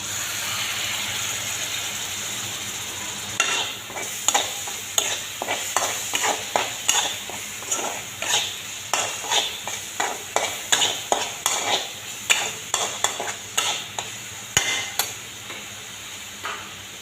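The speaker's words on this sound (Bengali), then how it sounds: "বাদামি বাদামি রং হওয়া পর্যন্ত আমি ভাজব। মশলার মধ্যে আমি টমেটোর কুচি দিলাম।" Spices and chopped tomato sizzle in hot oil for a Bengali chicken curry, with a spatula scraping the pan in a regular rhythm of sharp strokes over a constant frying hiss, close and without talk.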